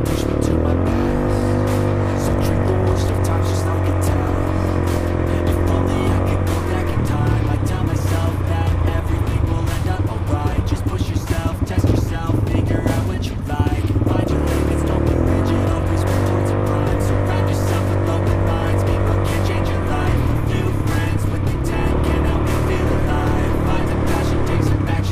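A 200cc high-end ATV engine runs steadily and loud throughout, its low drone shifting in pitch as it revs and eases, with no talk over it.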